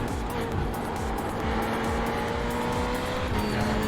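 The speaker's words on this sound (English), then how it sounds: "You are constantly breathing the throttle on and off of it." Race car engine at a VLN six-hour endurance race, the throttle blipped on and off in quick succession, a loud, close, buzzing drone that rises and dips rhythmically with faint tire noise.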